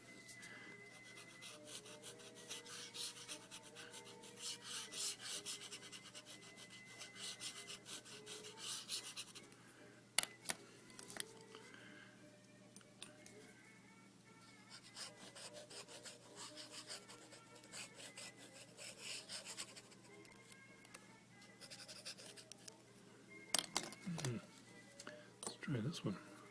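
A fountain pen nib scratches and rubs across paper in a long run of fine rasping strokes, steady and close, with short pauses and a few sharper scrapes near the end; someone talks over parts of it.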